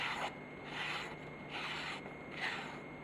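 Knife of 9KhS steel drawn across a natural slate whetstone (Gusev slate) during sharpening, giving four even, rhythmic raspy strokes about one every 0.6 seconds, close and steady with no talking.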